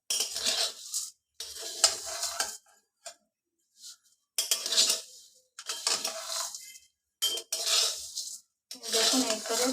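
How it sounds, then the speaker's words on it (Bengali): Thin vermicelli (simui) frying dry in a pan without ghee, giving bursts of scraping, clinking stirring against metal with short pauses between strokes, close and moderately loud. "দেখুন এই করে ভেজে নিচ্ছি আমি"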